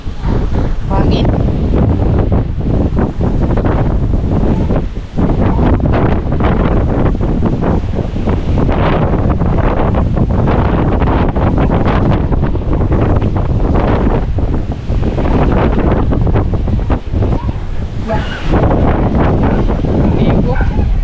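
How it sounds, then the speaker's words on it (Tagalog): Super Typhoon Uwan making landfall in Batangas: loud, continuous gusting wind buffets the microphone with roaring, whistling surges throughout, and a voice speaks faintly under the storm. "Naririnig nyo ba yung sipol ng ano? Sipol ng hangin?"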